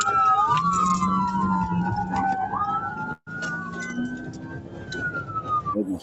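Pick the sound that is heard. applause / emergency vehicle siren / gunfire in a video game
emergency vehicle siren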